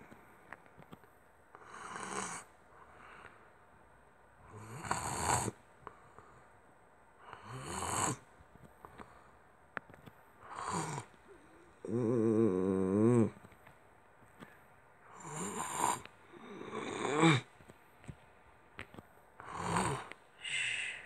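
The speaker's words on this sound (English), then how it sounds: "Can't take that snoring anymore." A person snores at night, about eight slow, regular snores separated by quiet pauses, some with a buzzing, rattling tone, close by and with no talking.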